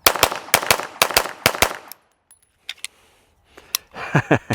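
Practice ammunition with hard primers fired at a shooting match: a fast string of about nine close, sharp gunshots, then a quiet pause with faint clicks, a couple of isolated cracks and a final burst of shots.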